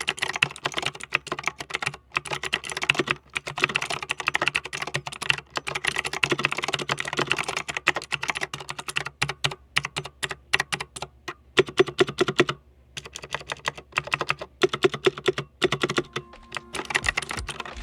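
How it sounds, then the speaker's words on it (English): Rapid, continuous typing on a Razer Minecraft mechanical keyboard with green clicky, tactile switches, a close dense patter of sharp clicks with brief pauses, no voices. "it uses the Razer green mechanical switches, which are clicky and tactile"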